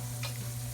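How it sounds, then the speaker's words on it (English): Garlic browns in a pan of sausage drippings, giving a faint, steady sizzle over a constant low hum, with one brief brighter crackle. "And brown the garlic."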